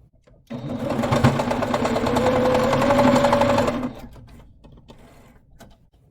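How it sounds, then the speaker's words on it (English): Sewing machine stitching the edges of a flat fabric mask, a close, loud, fast mechanical whir running for about three seconds before stopping, followed by quieter handling sounds. "So now what we're gonna do is sew these edges closed here and here."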